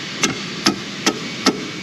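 A pry hammer taps against a stuck plastic shim piece on a 2007 Chevrolet Monte Carlo SS, four sharp, evenly spaced knocks close by against a quiet background.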